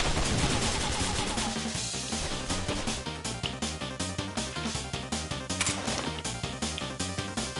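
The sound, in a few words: gunshots in a video game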